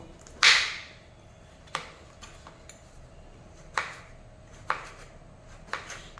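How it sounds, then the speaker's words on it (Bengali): Knife cutting through bottle gourd on a board: a loud opening slice followed by five sharper, spaced chops at close range, with no talk over them. "এখন দেখুন লাউটাকে ঠিক এইভাবে কেটে নেব"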